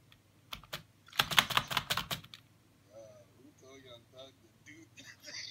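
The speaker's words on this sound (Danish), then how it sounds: "Jeg ved sådan set ikke helt 100, hvor meget mit tastatur larmer" Rapid clattering computer keyboard typing for about a second, close and fairly loud, then quieter gaming sounds follow with no typing.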